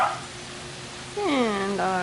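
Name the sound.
dog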